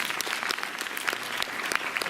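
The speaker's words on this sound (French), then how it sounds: "On peut les applaudir." Audience applause in a cinema at a film preview screening, a full room clapping steadily in a dense, continuous patter at moderate loudness with no talking.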